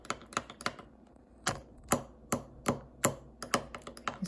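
Rose petal lip balm ingredients being mixed with a utensil in a small container. The scraping gives sharp, irregular taps and clicks, close and fairly quiet, with no talk.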